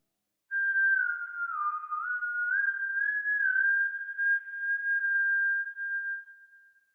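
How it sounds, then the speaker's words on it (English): A single person whistles one sustained, wavering note for about six seconds, bending the pitch slightly up and down before fading out. "Do not whistle at night."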